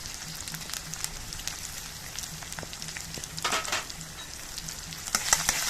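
Spice pastes of green chilli and cumin frying and being stirred in a pan, a steady close sizzle with scattered scraping clicks and a brief louder burst of stirring partway through, no voices.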